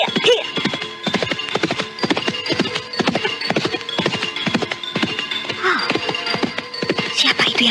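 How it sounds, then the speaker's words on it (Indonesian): A horse-drawn cart rolls past with steady hoof clip-clops in a quick, even rhythm, fairly close and continuous, with no talk over it. "Gerobak kuda"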